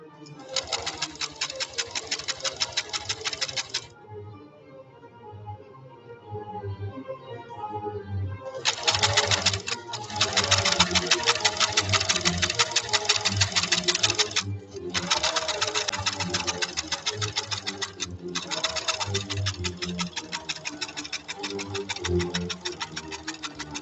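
A Singer Featherweight sewing machine stitches in several bursts of rapid, even mechanical clatter, stopping briefly between runs, close and fairly loud with quiet background sounds in the gaps.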